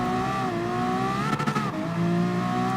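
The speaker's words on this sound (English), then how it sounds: "it's still just bouncing off the rev limiter everywhere" A video game car engine in Gran Turismo Sport held at high revs, droning steadily and briefly stuttering as it bounces against the rev limiter, up close and alone.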